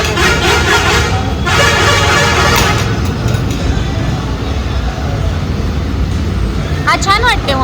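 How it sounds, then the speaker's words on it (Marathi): A truck passing on a road in Pune gives a loud, steady traffic rumble that fills the whole stretch, with voices talking over it and a few brief chirps near the end. "ट्रकचा आवाज येतो."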